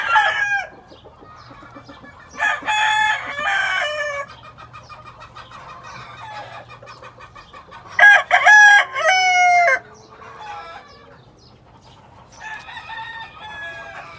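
Fighting roosters crowing in several loud bursts, with clucking in between and a faint steady hum underneath, no talk.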